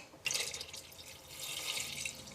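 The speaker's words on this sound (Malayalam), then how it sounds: "ഈ ജാറിൽ വെള്ളം ഒഴിച്ചിട്ട് സാമ്പാറിന് ആവശ്യമുള്ള വെള്ളം കൂടി ചേർക്കാം" Water is poured into a mixer jar to rinse out ground sambar paste, making a soft, splashing trickle that starts suddenly and runs on quietly and close for a couple of seconds.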